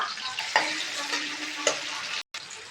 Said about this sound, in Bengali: গাইস এতে তেলে এবার পেঁয়াজ দিয়ে দিলাম